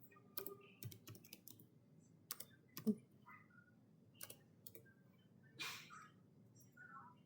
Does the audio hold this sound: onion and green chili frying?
no